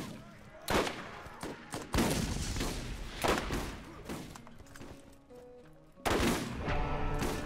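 Gunfire in the Borderlands video game, including sniper rifle shots, comes as a series of loud sharp cracks and bursts, with one heavy shot near the end and a busy mix of game noise between them.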